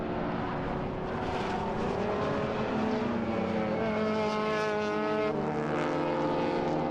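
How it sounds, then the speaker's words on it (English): Race cars scream past during the One Raceway 300 endurance race, loud high-revving engines with shifting pitch as several cars pass in quick succession, no commentary audible over them. "here comes Lachlan Maneef, who want to try and get past these cars very quickly"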